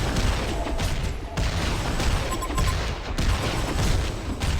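Dense, continuous gunfire from a video game battle, steady loud volleys and booms layered over one another without pause, with no voices clearly over the shooting.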